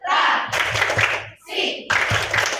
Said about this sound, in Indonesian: kita mulai 1, 2, 3. Tepuk literasi